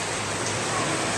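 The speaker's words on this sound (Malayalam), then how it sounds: "പുറത്ത് നല്ല മഴയാണ്." Heavy rain falls outside in a steady, even hiss that fills the whole stretch at a constant level, with no voices or other distinct sounds.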